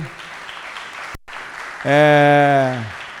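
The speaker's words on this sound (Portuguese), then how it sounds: "Salva de palmas para o Danilo aqui, né?" Audience applause at a Brazilian business event on scaling companies, a moderate clapping wash that is briefly cut off, then joined by a loud, drawn-out voice that rings over the crowd before fading.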